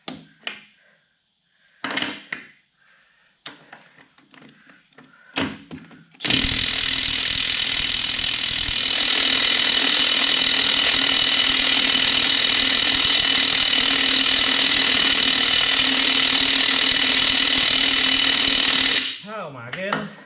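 A 1/2-inch Dewalt XR battery impact wrench hammers continuously for about thirteen seconds on a stuck brake caliper bolt, loud and close, following a stretch of scattered clanks and short speech.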